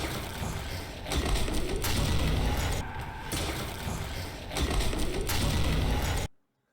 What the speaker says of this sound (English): I think you can hear the grenade going off.